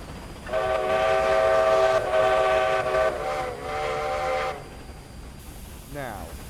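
Locomotive in the Roblox game 1946 Railroading sounds a loud, sustained multi-tone horn for about four seconds over steady rail rumble, then cuts off, followed by a brief falling whistle-like tone near the end.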